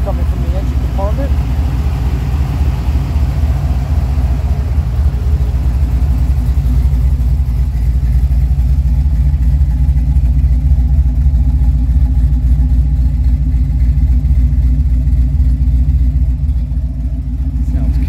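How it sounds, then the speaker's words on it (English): A 1989 Chevrolet S10 Blazer engine idles close by with a loud, even, continuous low rumble that holds steady throughout with no changes in pace. "No unusual sounds coming from the engine compartment."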